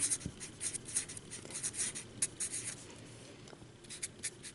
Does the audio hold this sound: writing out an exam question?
yes